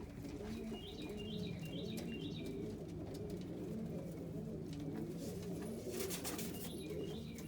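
Saddle homer pigeons coo inside a breeding loft, with soft, repeated, rhythmic calls overlapping at close range and a few faint chirps and rustles in the background.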